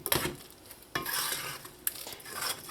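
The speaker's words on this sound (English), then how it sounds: "Just mix in that geera." Utensil stirring cumin into curried chickpeas in a pot for Trinidad doubles, a few sharp scrapes against the pot over a soft low sizzle, close and brief.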